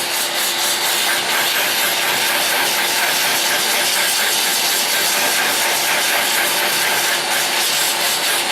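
A wood lathe spins with a sanding disc under dust extraction, giving a loud, constant whirring roar with abrasive rubbing hiss that holds steady throughout, and no voice.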